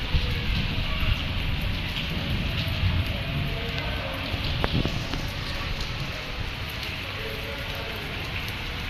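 Heavy rain falls steadily with a dense, constant hiss and patter, close and loud throughout, with a faint knock or two midway.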